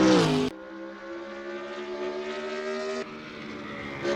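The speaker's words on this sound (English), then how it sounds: "With agility, the Z4 pivots cleanly to power down the next straight." A BMW Z4 accelerates on the Dunsfold race track after a corner, its engine note rising as a loud, sustained, steadily building drone, with a sharp burst at the start and a brief shift near the end.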